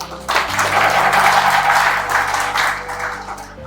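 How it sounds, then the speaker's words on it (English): Audience applause at a community event on youth drug abuse, a steady wash of clapping rising quickly and holding over a low background hum. "I believe this deserves a round of applause"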